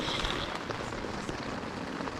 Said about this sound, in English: It is still raining pretty hard